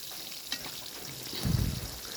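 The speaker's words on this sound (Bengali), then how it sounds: "আমার পেঁয়াজগুলোর সাথে মাছটা আরও ভাজা ভাজা হবে একটু" Fish frying in oil together with onions, green chilli and garlic, a soft steady sizzle that swells briefly into a louder burst of crackling near the end.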